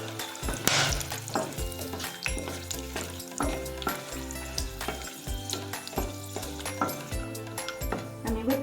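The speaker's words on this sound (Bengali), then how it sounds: "4 টুকরো লবঙ্গ, 2 থেকে 3টে দারচিনি, কিছু এলাচ আর 7-8টা মতো গোলমরিচ ফোড়ন দিলাম।" Whole cloves, cinnamon sticks, cardamom and peppercorns sizzling in hot oil in a pan for a Kashmiri mutton rogan josh, a steady close crackle with occasional utensil clinks and stirring, no voices.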